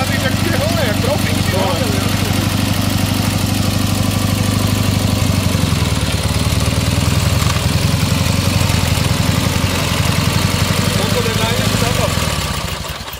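A Dnepr motorcycle engine runs loud and close, a steady low throbbing idle that rises in pace midway and stays strong before cutting off near the end, with voices talking over it.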